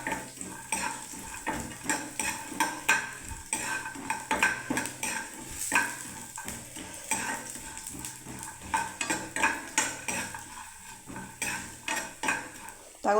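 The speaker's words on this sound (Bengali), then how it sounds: "লাল করে ভেজে নিচ্ছি ম্যাগিটাকে" Maggi noodles fried in a pan for a spicy chaat, with a continuous oil sizzle and rapid, irregular metal spatula clinks and scrapes against the pan throughout, close and busy.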